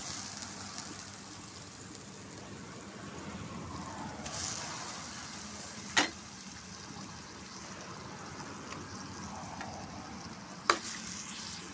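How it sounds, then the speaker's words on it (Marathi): Grated cucumber sizzling in hot ghee in a wok, a steady soft frying hiss throughout, broken by a few sharp clinks from a utensil. "तर ह्या तुपामध्ये हा मी काकडीचा किस घालते."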